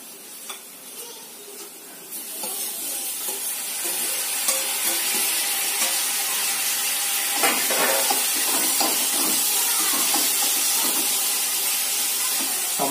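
Chili and tomatoes hit hot oil in a pan for restaurant-style dal makhani, giving a loud continuous sizzle and hiss that swells after the first seconds and holds steady, with occasional stirring scrapes.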